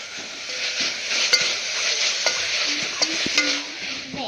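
Masala ingredients for a beef pressure-cooker biryani, including tomato, sauté in a pan with steady sizzling and frying, broken by repeated scraping stirs of a spoon against the pan bottom.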